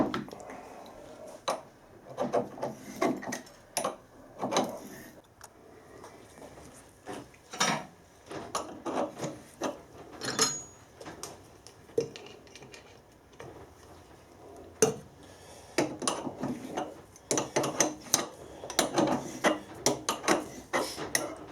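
A tap wound into a drilled hole by hand on a lathe for screw cutting, giving sparse metallic ticks and clicks in irregular bursts with quiet gaps between, close by and fairly soft.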